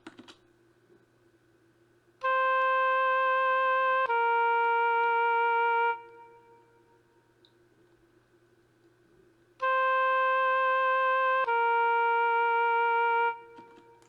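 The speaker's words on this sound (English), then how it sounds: "Third thing I did was to add oboe sound from Purity." A simple oboe melody from the Purity plugin's woodwind section, played as MIDI: two identical phrases of two sustained reedy notes each, separated by a quiet gap, clean and alone.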